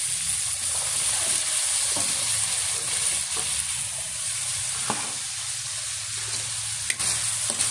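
Squash (kalabasa) sizzles and fries steadily in a pan, with a constant hiss and occasional stirring scrapes and clinks, close and alone.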